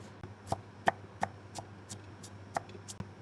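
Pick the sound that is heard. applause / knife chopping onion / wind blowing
knife chopping onion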